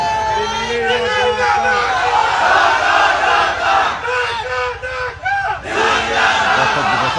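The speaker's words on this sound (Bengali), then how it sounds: "এই জন্য আপনাদেরকে এখন একটা স্লোগান দিতে হবে" A large outdoor political crowd chants a slogan in loud rhythmic unison, voices surging in repeated bursts with brief dips between calls, close and dense.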